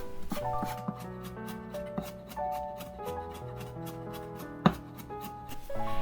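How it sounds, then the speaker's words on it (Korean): A knife finely chops carrots on a cutting board, quick irregular taps close up, with one sharper knock near the end, over soft background music and no talking. "당근은 얇게 썰어서 채 썰고 잘게 다져주세요"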